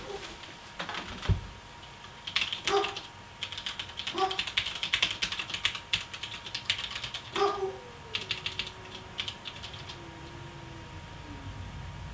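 Someone types on a computer keyboard in bursts of quick clicking keystrokes, close and fairly crisp, with short pauses between runs and a faint whining tone underneath.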